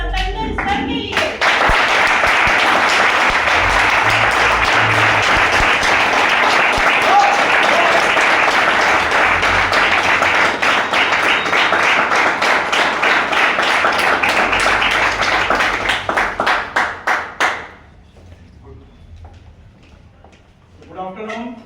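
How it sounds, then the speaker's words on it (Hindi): An audience in a hall applauds a speaker coming onto the stage for an online course talk, with loud sustained clapping that holds for about fifteen seconds, thins into scattered claps and stops, and a voice comes in at the end. "एक बार जोरदार ताली होनी चाहिए सतेंद्र सर के लिए।"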